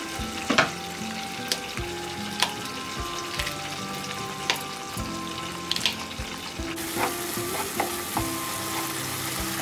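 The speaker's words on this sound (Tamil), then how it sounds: "தக்காளி வந்து இப்போ நல்லா வதங்கிடுச்சு." Chopped tomatoes sautéing in a pan, a continuous close sizzle with frequent sharp scrapes and knocks of a spoon stirring against the metal, no talking.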